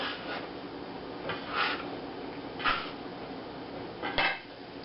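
Dough scraper working sticky sweet yeast dough for a Swedish tea ring inside a container, giving soft scraping and a few louder knocks against the sides at intervals.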